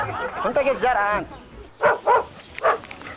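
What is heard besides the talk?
dog barking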